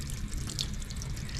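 Water running and sheeting off the hydrophobic-coated paint of a Toyota Supra during its first wash, a continuous close splashing rush with no pauses.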